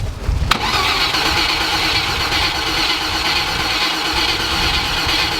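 After a sharp click, an engine with no spark cranks continuously with a loud, steady churning whir that never catches and runs.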